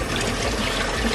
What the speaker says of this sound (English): I really need to rinse it with cold water